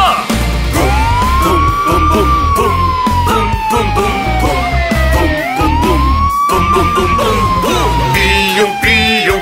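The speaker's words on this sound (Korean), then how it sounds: "달려 달려 파란 경찰차." A wailing police car siren rises and falls through a bright, loud children's song about a blue police car, with music and vocals running throughout.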